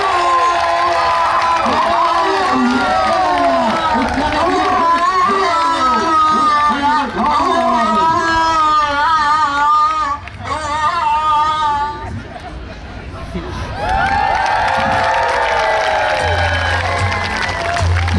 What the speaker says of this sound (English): we're gonna cheer for her to see if we can get her louder